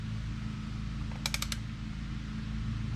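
A long-handled socket wrench works a small fastener during an oil change on a Honda NC750X DCT motorcycle, giving a quick burst of four or five sharp ratcheting clicks over a quiet steady background hum.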